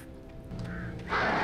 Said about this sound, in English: You've got nothing on me, freaking crows!